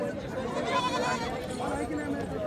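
Native village goats bleat at a rural weekly goat market, wavering cries rising over a murmur of crowd chatter and nearby voices.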